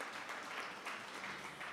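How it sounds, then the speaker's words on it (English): Applause from a graduation audience at an academic awards and seventh-grade ceremony, a steady, fairly faint wash of clapping that runs evenly throughout without voices. "Let's give her a round of applause."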